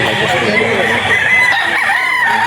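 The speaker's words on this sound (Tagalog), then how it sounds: "Isang napakagandang manok na naman to hawak ni Boss Perry" A rooster crows loudly and close by amid the bustle of a Philippine pet market, with other fowl clucking and faint voices underneath.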